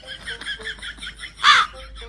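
Crow caw dubbed into a comedy clip, a rapid series of nasal caws followed by one louder, harsher caw near the end, loud and close.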